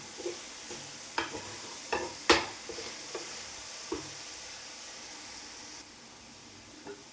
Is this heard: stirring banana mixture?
yes